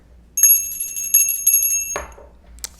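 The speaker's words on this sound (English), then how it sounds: "I'm going to ring the bell to cleanse the space for me and for you." A small bell is rung several times to cleanse a space, each bright, high, clear strike ringing on over a quiet room before the tone is damped; a faint tap follows.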